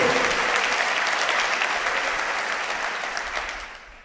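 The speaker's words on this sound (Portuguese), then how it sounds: "Você pode aplaudir o Senhor com mais força" A church congregation applauds the Lord in a steady, dense wash of clapping that holds loud and then thins slightly toward the end, with no voices standing out.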